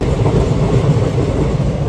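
Interior of a moving train on a journey from India toward Nepal, a loud, heavy low rumble with rhythmic rattling of the carriage, no speech.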